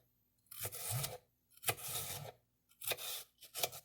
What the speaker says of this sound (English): dicing this red pepper and putting it in our bowl